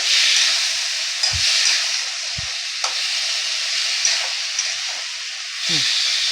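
Coriander leaf, chilli and garlic paste sautéing in a pan, with a steady close sizzle and hiss, and a few soft spoon scrapes and knocks against the pan.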